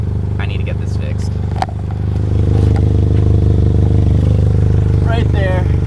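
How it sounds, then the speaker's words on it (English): A vehicle engine idles close by after break-in; only the bottom of a weld on its exhaust is broken, causing a leak. It gives a loud, steady low rumble with some metallic clatter, and the idle firms up partway through. "I wanted to show you guys the exhaust leak, what I'm talking about."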